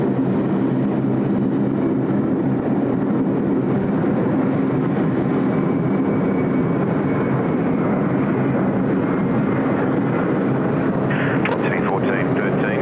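An airliner arriving from Tokyo Haneda lands on runway 34 left at Sydney Airport, a sustained broadband jet roar that stays steady and fairly loud, with voices underneath.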